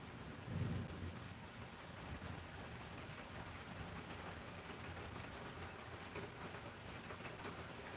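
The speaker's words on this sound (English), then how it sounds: "there we're getting a more intense rain" Intense rain falls in a steady, dense wash, with a low rumble of thunder swelling briefly near the start, heard faintly and at a distance throughout.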